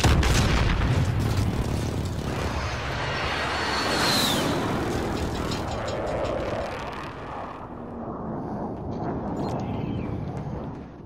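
Call of Duty Warzone precision airstrike: a sustained roar of heavy explosions and rumbling blasts with an aircraft-like sweep, loud and continuous throughout, fading slightly toward the end, with little speech.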